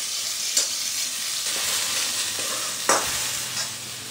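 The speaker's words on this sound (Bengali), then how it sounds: "আর একটু আলু ভাজছি" Potatoes frying in a pan in a home kitchen, a continuous bright sizzle with a few sharp scrapes and clinks as they are stirred, close and alone without talk.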